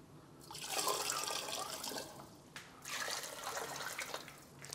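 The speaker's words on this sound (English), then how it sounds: "we're gonna have to put some water in here," Water pours into a pot in two long splashing bursts with a short pause between them, close and steady, for making sugar glass from sugar and about four cups of water.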